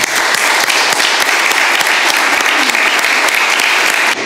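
Loud, dense applause from a political conference audience, sustained clapping from many people close by, continuous and even from start to finish.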